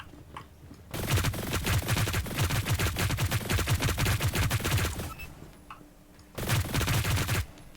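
Rapid automatic gunfire from a weapon in the video game Hyper Scape, a loud sustained burst of about four seconds, a pause, then a second shorter burst, with dense rhythmic shots and almost no talk.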